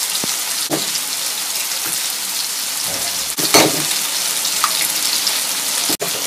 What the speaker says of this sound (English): Go ahead and crack in your eggs.